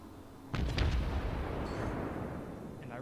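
Battleship main guns fire in the naval combat game World of Warships, a sudden heavy boom followed by a few sharp cracks and a long rumbling tail that stays loud and close to the end.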